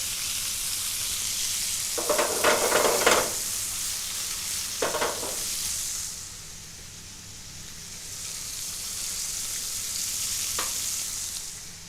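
Swordfish steak sizzles on a hot griddle pan, a steady broad hiss of frying with a few louder crackling bursts and brief stirring or handling noises, close up and with no voices.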